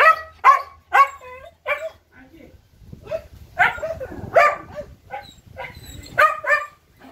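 Several dogs bark at a closed, abandoned club in Rolândia, Brazil, letting out a quick burst of sharp barks, then a quieter pause with rustling, then another volley of barks and yips. People talk nearby.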